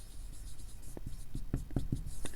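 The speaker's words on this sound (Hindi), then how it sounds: "यहाँ पे मैं आपको कुछ सेटअप्स लिखता हूँ" Chalk or marker strokes on a board during a math lecture on power series solutions, a run of short scratchy taps and rubs in quick succession, with no talking.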